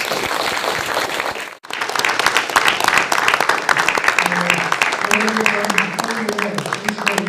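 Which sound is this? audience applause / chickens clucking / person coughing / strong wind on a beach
audience applause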